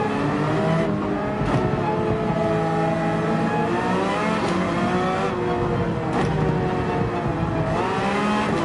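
Porsche 911 GT3 engine in the Gran Turismo 7 racing game, a loud continuous howl rising and falling through gear changes and braking, with brief dips between shifts over steady track noise.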